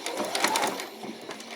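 A sewing machine back stitching on a butterfly and bee outfit, a rapid run of needle clatter close by that pauses briefly and resumes more faintly.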